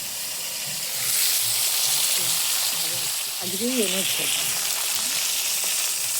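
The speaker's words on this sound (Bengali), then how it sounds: "এই যে ভাজা হচ্ছে" Large catla fish heads fry in hot oil with salt and turmeric, giving a steady, close sizzle throughout while a person speaks briefly over it.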